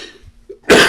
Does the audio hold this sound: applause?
no